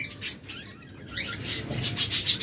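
Caged lovebirds, cockatiels and budgerigars chirp in a busy, overlapping chorus of high tweets, swelling louder toward the end with no talking.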